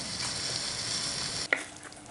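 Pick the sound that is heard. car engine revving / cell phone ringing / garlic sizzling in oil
garlic sizzling in oil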